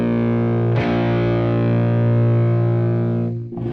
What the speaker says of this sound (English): it gives it that fuzz sound that's a slightly driven amp